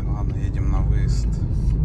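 Steady low rumble of engine and road noise inside a car travelling a scenic dirt road near Nyazepetrovsk, continuous and fairly loud, with faint indistinct voice-like murmurs on top.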